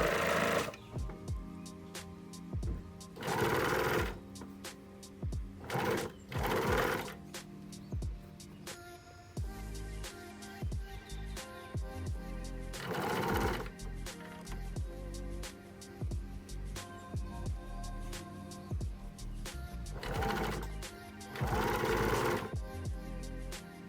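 A sewing machine stitches corset seams in repeated bursts of fast, close mechanical whirring and clatter, separated by pauses with quieter handling, several runs across the stretch with no one speaking.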